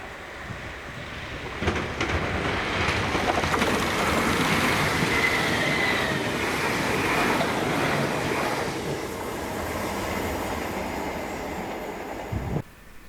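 A ScotRail Class 318 electric multiple unit pair, 318266 and 318267, passes Greenfoot, a loud rushing roar of wheels on rails with a faint squeal that builds, holds for several seconds and then fades away.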